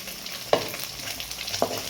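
Homemade chicken fried rice sizzles steadily in a frying pan, broken by two distinct scraping strokes as it is stirred, close and fairly loud.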